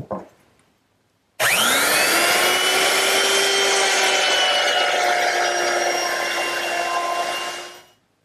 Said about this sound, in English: I want to do is remove most of the material in the area of the joint while my straight bit is still in the router